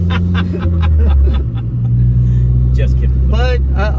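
A loud car engine rumbles close by with rising revs, while people talk over it.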